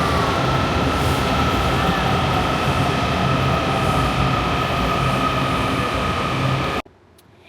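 A Washington DC metro subway train rumbles steadily and loudly with a sustained roar and high whine, no voices, cutting off abruptly near the end.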